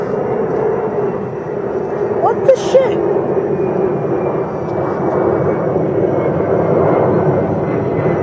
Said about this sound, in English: That's one of those shitty Southwest planes that they redesigned too.